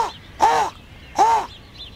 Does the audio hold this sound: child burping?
no